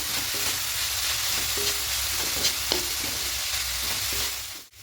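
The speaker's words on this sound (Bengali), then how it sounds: "এবার এখানে হাফ কাপ পাউডার দুধ দেব দিয়ে খুব ভালো করে সব মিশিয়ে নেব" Coconut filling for modak, mixed with powdered milk, is stirred in a hot pan, giving a continuous close sizzle with repeated scraping strokes of the spoon, no voices.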